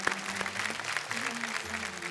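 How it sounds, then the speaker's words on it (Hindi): Studio audience of a folk singing reality show applauding guests welcomed on stage, a dense wash of clapping with a low musical hum beneath it and some faint voices mixed in. "भाई जोरदार तालियां हो जाएं"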